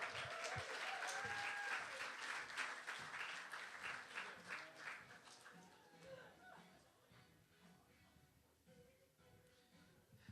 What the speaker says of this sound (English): please, a warm round of applause for the one, the only, Josh the intern from Rock